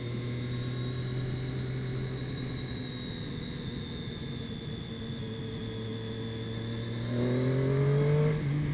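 A Suzuki GSX-R 750 motorcycle engine idles with a steady tonal drone, then climbs in pitch and loudness as it revs near the end.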